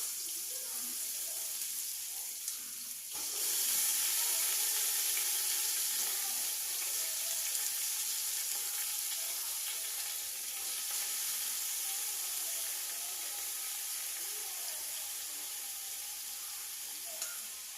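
Steady hiss of oil frying in a pan while cooking biryani, a continuous crackling sizzle at moderate volume with no talking.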